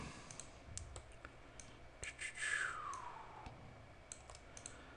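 Sharp computer mouse clicks, several scattered through the clip, close and fairly quiet over a soft background hiss, with a brief rising whistle-like sweep in the middle.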